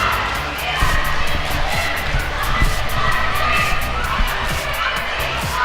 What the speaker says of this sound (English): With the way the crowd is reacting here, just the noise.